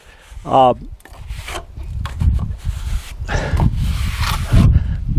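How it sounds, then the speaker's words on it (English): A trowel spreads and scrapes stucco mud over stone, with rough rubbing strokes repeating close by and brief tapping between them. "use your square trowel because it'll work a lot better than this trowel that I'm using right now"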